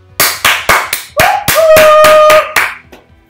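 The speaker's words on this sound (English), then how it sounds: "user applaud and make noise" About nine sharp, separate hand claps ring out close and loud in an interactive installation, evenly spaced at first, with a steady ringing tone sounding behind the middle claps.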